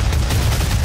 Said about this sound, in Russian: Пошли снаряды и просто мега крутая пушка.